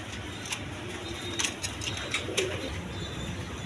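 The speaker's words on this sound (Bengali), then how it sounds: "এখানে এক পেয়ার গিরিবাস কবুতর আছে" A pair of Giribaz pigeons, one a Maydam and one a Jak, coo softly and intermittently nearby over a steady background hiss, with a few brief sharp clicks.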